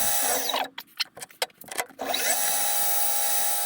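A metal lathe faces and chamfers an aluminium knurled knob, a close steady whirring spin broken in the middle by a stretch of uneven cutting bursts and scraping, then settling back into a smooth running hum.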